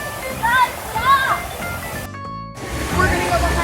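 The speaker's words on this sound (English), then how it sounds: "We're gonna go behind the waterfall." Waterfall at an amusement park, a steady rushing splash of falling water close by, with people talking over it and a brief sharp break partway through.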